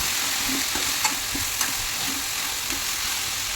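Ivy gourd curry frying in a pan, with a constant loud sizzling hiss and faint spoon scrapes and taps as it is stirred, close up with no talk.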